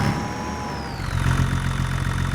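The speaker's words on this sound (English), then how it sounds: "I really like the sound of this tractor actually." Tractor engine idling in the Farming Simulator game, a steady low rumble with a faint whine that slides down in pitch, then a slightly fuller, louder idle; no talking.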